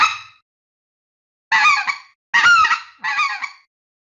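A goose call mimicking the yodel of specklebelly geese in flight, four loud, close, reedy honking yelps with short gaps between them and no talking.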